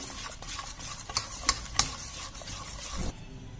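Banana walnut cake batter, with baking powder and soda just added, being stirred in a bowl: soft repeated scraping and swishing with a few sharper taps of the utensil against the side.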